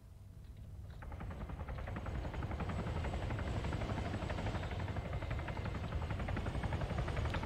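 Helicopter in a military flight simulator game, a steady close rotor thump and turbine drone rising in loudness after the first second and then holding constant, with no talking over it.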